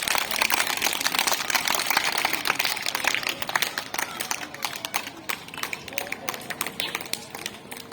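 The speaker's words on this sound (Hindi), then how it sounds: "ताड़ी बजाएंगे 3-4" Children clapping in rhythm during a yoga and meditation session, many sharp, rapid hand claps layered into a dense patter that runs throughout, with a guiding voice talking over it.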